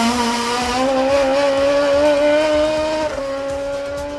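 A Toyota Starlet rally car races along the Woodland to Colleton stage in Barbados, its engine holding a loud, steady high drone that dips briefly near the end as it shifts gear, with no voices.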